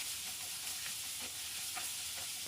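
Naem, Thai fermented pork, sizzles steadily while being stir-fried in a pan over medium heat, a constant close hiss with light scraping stirs throughout.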